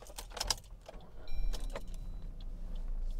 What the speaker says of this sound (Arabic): شوفون كيف المرايا فتحت